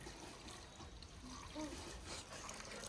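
Water trickles and splashes as it is poured into a pot for cooking vegetable curry, a soft continuous flow heard fairly faintly with room noise around it.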